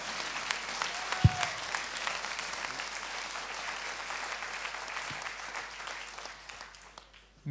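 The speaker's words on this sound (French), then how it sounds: "Yannick Bestaven, vous pouvez l'applaudir, s'il vous plaît, encore une fois" Applause at a Vendée Globe press conference for the Maître Coq skipper, a steady wash of clapping from a modest crowd throughout, with one sharp knock near the start and the sound thinning slightly toward the end.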